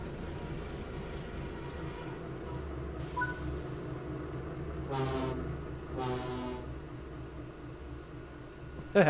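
Two-tone horn of an English Electric locomotive in the Train Sim World 5 game, two short sharp blasts heard over a steady rumbling engine drone, with a couple of fainter tones before them.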